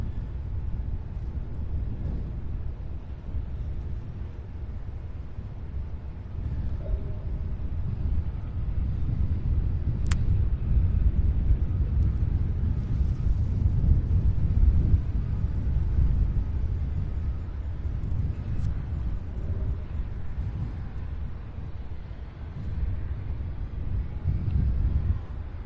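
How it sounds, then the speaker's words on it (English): A United airliner on final approach at Louisville airport rumbles as a distant low roar that swells slightly midway, with a little wind noise and no talking. "All right, United Flight 6145 on final approach here"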